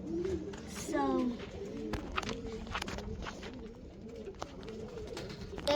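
Roller pigeons coo near their loft, with soft repeated throaty coos close by and occasional footsteps, while people talk over the birds.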